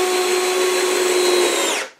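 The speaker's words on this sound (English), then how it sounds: "I'll take the extra step and pre-drill" Power drill boring pilot screw holes into wood for a bluebird house, one steady high whine running about two seconds before cutting off, close and alone.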